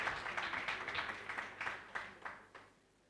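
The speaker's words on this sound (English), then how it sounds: "Another round of applause for Frank, please." Faint, scattered clapping from a small audience at a university moot court competition, the individual claps fading and thinning out over a few seconds.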